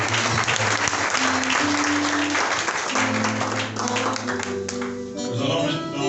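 A church congregation applauds loudly and continuously, dense clapping that fills the space, with voices and sustained musical tones sounding beneath it.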